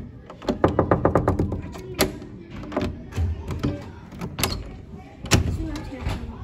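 A locked room door is knocked on close by, with a rapid run of sharp knocks followed by scattered heavier thuds and rattling as the door is tried, while voices talk faintly in the background.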